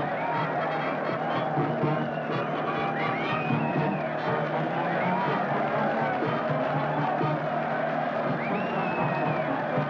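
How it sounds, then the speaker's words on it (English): A large crowd waving and cheering for long-lost castaways on their return, a steady wash of distant crowd noise and overlapping voices that stays dense and even throughout, with occasional higher shouts rising above. "And look at that mob waving and cheering."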